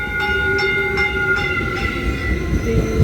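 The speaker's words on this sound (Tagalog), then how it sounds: "Nandito na po yung train." A passenger train pulling into a station, with a close, steady metallic rumble of rail cars and bright sustained wheel squeal tones sliding and shifting throughout, loud with no talk.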